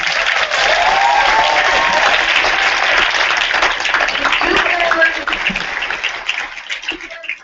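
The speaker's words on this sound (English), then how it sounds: "I'd like to give you a round of applause." A large audience at a company team meeting breaks into loud, sustained applause that tapers off near the end.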